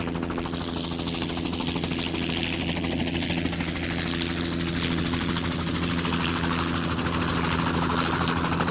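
A helicopter drones steadily overhead, its rotor thumping and engine whining in a loud, continuous roar with no pauses.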